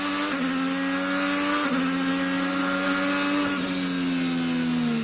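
Honda-powered high-downforce IndyCar racing at St. Petersburg in 2015: a loud, sustained high-revving engine whine with steady pitch and brief gear-shift dips, close and continuous without talk.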